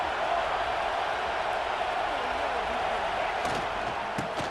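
A stadium crowd roars steadily at a college football game in EA Sports College Football 26, a broad, continuous wash of cheering at even volume, with a few faint thumps near the end.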